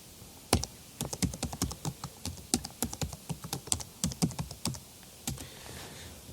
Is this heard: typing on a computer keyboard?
yes